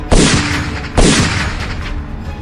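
Two loud, close gunshots from a handgun, each a sharp boom with a long decaying tail, spaced about a second apart, with no talking over them.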